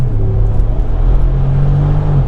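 A 2019 Mercedes-Benz W463 G550 with its V8 engine accelerating hard, producing a loud, steady deep rumble with a rising engine tone throughout, close and without speech.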